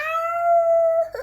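A voice imitates a dog, producing a single drawn-out howling tone that holds steady for about a second before breaking into a short rough yip, loud and close, with no other talk.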